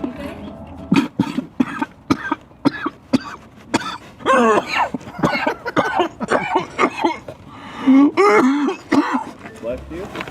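Repeated close coughs and throat clearing, short bursts in quick succession, mixed with a voice speaking between them.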